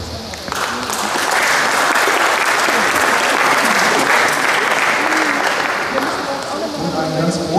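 An audience at an AfD election campaign rally in Waldeck-Frankenberg breaks into loud, sustained applause, a dense continuous clapping that fills the hall for several seconds.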